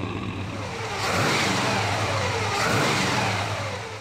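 A 1957 Chevy upgraded with a small block 350 V8 engine revs twice, rising and falling in two swells over a steady rumbling idle, close and fairly loud, with no talk.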